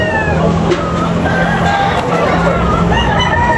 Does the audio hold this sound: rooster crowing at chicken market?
yes